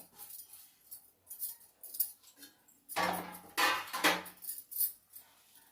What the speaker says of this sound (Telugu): ఉల్లిగడ్డలు పచ్చిమిరపకాయ ఇది కరివేపాకండి కరేపాకు కొత్తిమీర ఇవంతా బాగా కలుపుకోవాలి